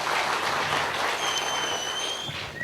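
An audience at a comedy show claps steadily in a wash of applause that eases slightly toward the end, with faint whistle-like tones rising above it.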